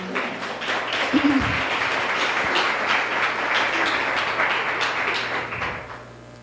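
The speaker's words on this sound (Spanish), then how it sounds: "denle un aplauso al Señor" A church congregation applauds steadily during a worship service, a dense wash of clapping sustained for several seconds with a brief voice near the start.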